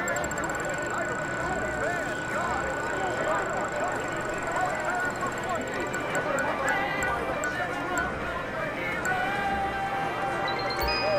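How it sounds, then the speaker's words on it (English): Horse racing in the GTA Online casino's Inside Track game: steady, rapid clip-clopping hooves of galloping horses with occasional neighs, continuous and fairly loud, with a voice talking over the action. "It's premier horse racing at the inside track."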